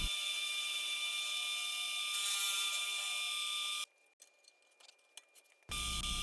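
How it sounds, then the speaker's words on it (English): A loud, steady high-pitched whine with a constant tone as a lathe drills out the center of an HDPE plastic trash can, cutting out abruptly to leave quieter scraping and clatter, then resuming at full volume. "I want to drill out the center of this trash can"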